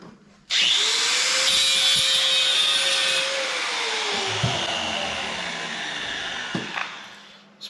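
A power tool drives bolts into a battery relocation tray during an LS engine swap, giving one loud, steady whirring run of several seconds that sags slightly in pitch partway through before cutting off.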